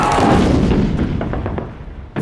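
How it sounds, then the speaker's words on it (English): A World War I German artillery barrage of drum fire opens with a heavy, close boom that rolls and decays into rumbling echoes, and another blast cracks in right at the end. "Fritz put down a barrage like nothing I'd heard before"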